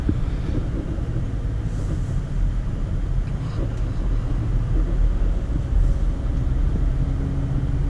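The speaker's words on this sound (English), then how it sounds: "This is a quiet little four-cylinder" Steady low rumble and road noise from inside a Toyota Camry LE with its 2.5L four-cylinder engine, driving along quietly and evenly with no talking.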